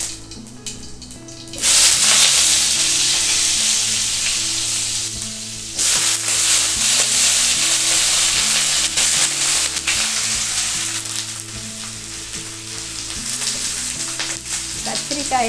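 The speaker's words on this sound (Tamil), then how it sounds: "கத்திரிக்காய் எண்ணெயில் வதங்கும் போது" Eggplant sizzles and fries hard in hot oil in a pan, after cumin has crackled, a loud continuous hiss with brief stirring scrapes, close and alone without talk.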